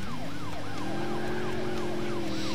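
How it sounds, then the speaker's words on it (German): An American-style police siren from the Alarm für Cobra 11 video game wails in a steady, repeating rise-and-fall cycle at close range. It holds loud over constant road and engine noise, with no voices. "Mit schöner amerikanischer Sirene geht's jetzt auf die Autobahn."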